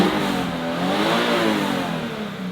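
Subaru BRZ engine revving up and down continuously, a loud, close mid-pitched engine note swelling and easing over a couple of seconds with no voices.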